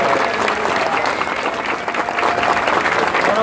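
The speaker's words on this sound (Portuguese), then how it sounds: "Uma salva de palmas para Ayrton Senna e Viviane Senna" A crowd claps warmly at a public ceremony in São Paulo where the mayor honors Ayrton Senna and presents flowers to Viviane Senna. The dense, even applause stays loud and continuous the whole time.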